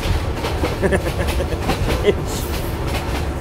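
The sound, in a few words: train ride, rail carriage clatter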